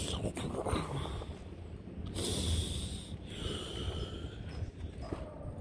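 A voice imitates a dinosaur snoring with slow, breathy snorts and long exhaled rumbles, repeated several times at a soft, close level.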